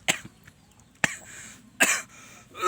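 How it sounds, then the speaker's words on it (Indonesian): A person coughs three times, short, sharp and close, with about a second of near quiet between each cough. "batuk teman-teman"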